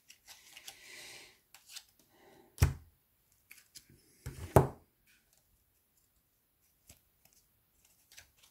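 A deck of oracle cards that resists easy mixing being shuffled by hand, two short riffling bursts separated by quiet, with faint handling rustles around them.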